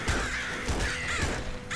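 Crows caw repeatedly in the top-down shooter Nuclear Throne, a few harsh rasping calls close and loud against an ongoing game background.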